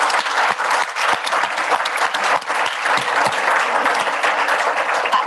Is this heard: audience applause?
yes